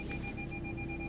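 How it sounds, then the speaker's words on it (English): A car's rear parking sensor beeping while reversing into a bay park, a steady faint electronic tone over low engine and road rumble, with no talk. "you can hear the beeping on the car, means we haven't got much space behind"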